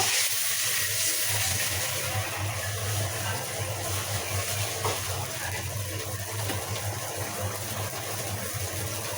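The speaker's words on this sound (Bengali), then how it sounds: "সামান্য একটু পানি দিয়ে দেবো মশলাটা কষানোর জন্য।" A little water goes into ginger-garlic paste and salt in a cooking pan while a fish and potato curry is prepared, giving a steady, continuous watery hiss over a low hum for the whole stretch.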